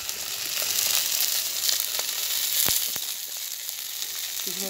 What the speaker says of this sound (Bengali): জিরেটা ফোড়ন দিয়ে দাও, লঙ্কা একটা দিয়ে দাও